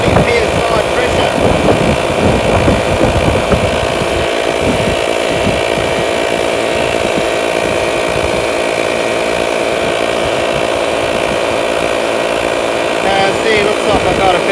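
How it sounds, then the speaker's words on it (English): Loud, constant mechanical drone of an air compressor pumping up the 4WD tyres of a Mitsubishi Pajero to 40 psi, running steadily and close with a throbbing motor rattle, with no talking. "So now it's constantly pumping those tyres at 40 psi pressure."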